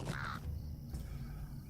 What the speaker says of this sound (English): As we can clearly hear the birds squawking in the background.